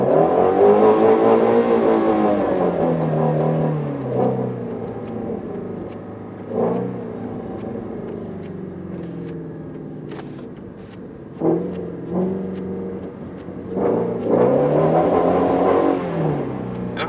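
A Shelby GT350 engine revs up and down repeatedly while drifting in snow, the throttle feathered in short bursts between longer swells, loud and close with a steady rumble underneath.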